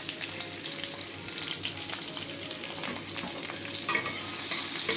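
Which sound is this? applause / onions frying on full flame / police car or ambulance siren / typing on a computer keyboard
onions frying on full flame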